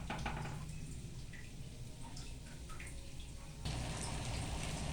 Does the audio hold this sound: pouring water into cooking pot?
yes